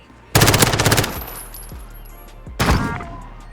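Automatic gunfire in a Modern Warfare 2v2 gunfight match, a loud rapid burst of shots followed by a pause and a second shorter burst, close and punchy.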